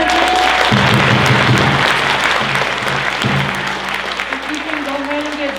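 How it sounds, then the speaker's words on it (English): Audience at a Ute Indian pow-wow dance performance at a history museum claps loudly for the dancers; dense applause fills the space while a voice and tonal sounds run underneath. "Can we get a round of applause for all the dancers?"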